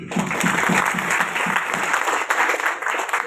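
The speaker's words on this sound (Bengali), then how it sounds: "সবাই সবার জন্য একটা করতালি দিই" Audience applause fills the room at a business gathering, steady dense clapping from a crowd throughout, loud and close, with a few louder individual claps standing out near the start.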